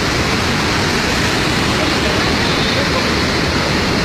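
Roar of the Salto Botelho waterfall, a steady, dense broadband rush that fills the whole clip loudly and evenly, with no voices over it.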